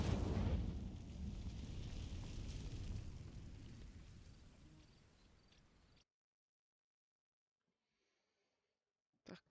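The Incendio fire spell ignites dry vines in Hogwarts Legacy with a loud whooshing burst and roar of flames that fades out over several seconds, then drops to silence before a brief faint sound.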